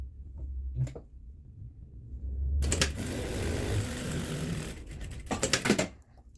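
A sewing machine stitches the other side seam of a dress, running in a steady rapid whir for about two seconds after a few preparatory clicks, then stopping with some brief clatter, close and without talk.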